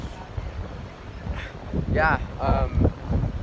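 Wind blowing across a microphone at Pismo Beach, a steady low rumble and buffeting under a person talking throughout.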